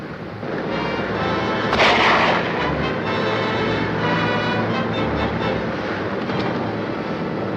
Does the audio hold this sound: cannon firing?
yes